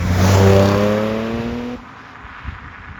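An Audi S4 engine revs hard under acceleration in first gear, a loud rising growl that climbs in pitch, then drops off sharply into quieter road rumble.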